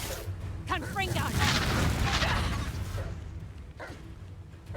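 Confringo fire spell in Hogwarts Legacy: a booming burst with a crackling, rumbling body that swells and lingers for a couple of seconds amid game combat noise, with a voice calling out over it.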